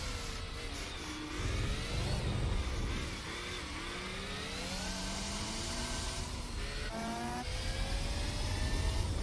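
A Mazda 787B race car's rotary engine screams in a Gran Turismo race at Tsukuba, pitch rising and falling with throttle through a turn, loud and continuous, with a couple of quick blips and downshifts and no talk.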